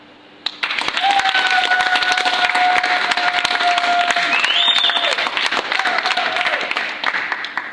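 Audience applause at a military farewell ceremony honouring a departing general, a dense, steady clatter of many hands that starts abruptly and carries on for several seconds, with thin tonal whistles rising above it.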